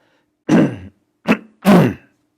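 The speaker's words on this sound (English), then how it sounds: "Clearing my throat." Three short, loud throat-clearing rasps close to the mic, the middle one briefest, separated by silence.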